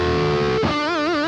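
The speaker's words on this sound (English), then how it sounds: "if I add a bit of distortion on the single coil sound first" A brief burst of distorted electric guitar on a single coil sound through a BOSS GP-10, a sustained gritty note that bends and wavers with vibrato toward the end.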